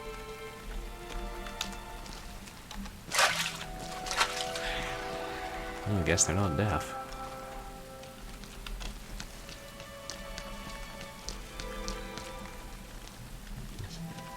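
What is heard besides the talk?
rain falling in a video game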